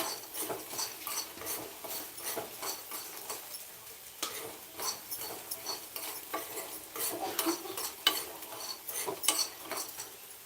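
Sprouted chickpeas fried in a pan with a couple of spoons of oil, coriander and salt, a spoon stirring and scraping in steady repeated strokes over a soft sizzle, close and alone.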